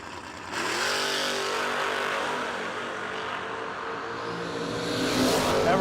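At a no-delay drag racing event, a Roadster and an Oldsmobile Starfire launch with a sudden, loud engine roar. Both engines scream at full throttle and hold a steady howl down the strip, with no talk.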